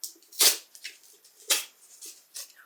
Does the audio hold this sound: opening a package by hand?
yes